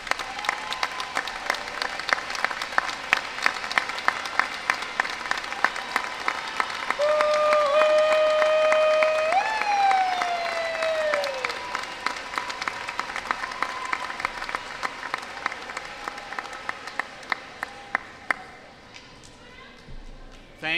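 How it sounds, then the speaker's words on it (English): Sustained applause from a commencement ceremony crowd, loud and steady for about twenty seconds with scattered sharper claps, a brief tonal sound in the middle, fading near the end. "appreciation by a round of applause."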